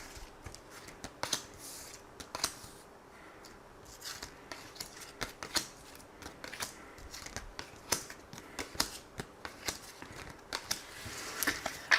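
Tarot cards being shuffled and handled during a reading, a run of soft papery riffles and sharp flicks repeating irregularly at close range, with no talking over them.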